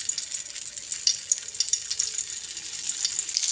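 Chicken shami kababs frying in three tablespoons of ghee on a tawa griddle, with a steady close crackling sizzle and bright popping spatter throughout, no talking.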